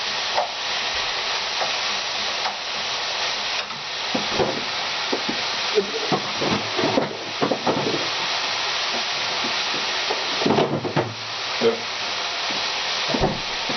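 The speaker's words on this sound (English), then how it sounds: "this is going to fry" Food frying in a pan with Brussels sprouts, a steady sizzling hiss throughout, broken by clinks, knocks and handling sounds close by.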